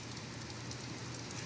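Heavy thunderstorm rain pours steadily in Fayette County, Illinois, a dense, even hiss with no breaks, moderately loud and alone.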